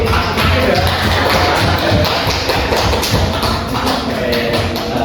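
A computer networking class applauding together, a dense and loud burst of clapping from the whole room that holds steady for several seconds.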